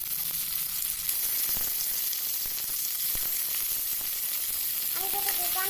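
Chicken pieces sizzle in a pan of fried onions, a steady crackling hiss that runs continuously with a few sharper pops and a faint tonal whine near the end.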